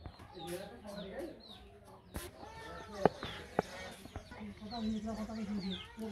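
Chickens cluck and call in a rice field in a Bangladeshi village, with a couple of sharp knocks partway through, and voices talking nearby among the birds.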